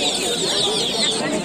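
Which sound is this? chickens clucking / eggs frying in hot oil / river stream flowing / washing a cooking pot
chickens clucking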